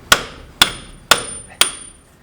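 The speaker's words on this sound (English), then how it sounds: "Now, I'm going to be hitting the back of this disc to remove the disc." Steel hammer striking the back of a Ford Transit Custom front brake disc, four sharp metallic clangs at an even half-second rhythm, each ringing briefly before the next, close and loud with no talk.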